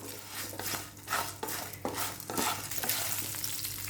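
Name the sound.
green chillies and onions frying in a pan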